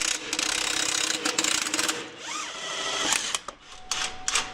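A ratchet wrench works a bolt loose from a Land Rover axle, its quick clicking pawl rattling in bursts alongside metallic clanks and brief squeaks, fairly close.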